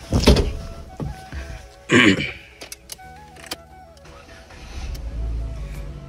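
A used 2011 Ford Figo car is started, with a short cranking burst and catch followed by a few clicks and knocks, then the engine settling into a low steady idle, close by.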